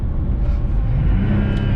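BMW E46 M3 with the S54 inline-six engine, a steady mid-pitched engine hum close by with a slight rise in tone near the end, no one talking.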